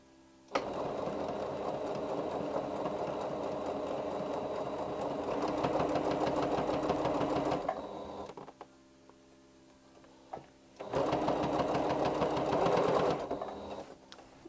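A sewing machine stitches a fabric bag holder in two long, fast, rapid-ticking bursts, with a quiet pause between them, heard close and alone.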